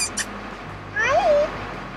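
A cat in a tobacco shop in a historic Texas town gives a single clear, rising-then-falling meow at close range, preceded by faint background sounds.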